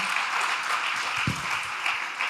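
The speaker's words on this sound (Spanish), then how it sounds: "Dale ese aplauso a Él" A church congregation applauds during a sermon, a continuous wash of clapping and crowd noise lasting a couple of seconds, with a faint voice underneath.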